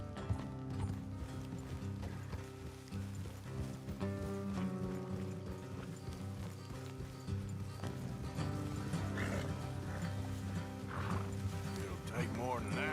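Horses neighing and whinnying in Red Dead Redemption 2, heard faintly with soft hoof clip-clop beneath a busy game soundscape and light music.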